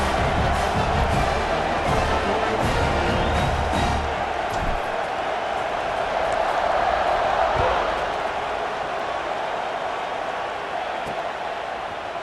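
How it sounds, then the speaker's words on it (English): A stadium crowd roars in EA Sports College Football 26 as the kickoff unit takes the field, a broad, steady wash of cheering that fades slightly toward the end, with no commentary over it. "this crowd is feeling themselves after that last drive"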